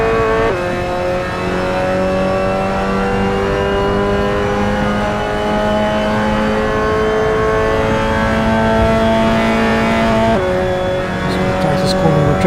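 Mazda MX5 Cup race car in a sim racing game at Okayama, the engine droning steadily at high revs with a sharp pitch drop at a downshift partway through, loud and close, someone talking over it.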